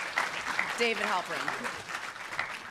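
An audience applauds at a flash talk event, a steady patter of clapping hands while a speaker's voice announces a name over it.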